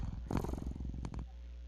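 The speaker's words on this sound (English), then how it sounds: "judging from the cat's content purring" Content purring of a cat in a video game, a short steady rumbling purr up close that fades out after about a second.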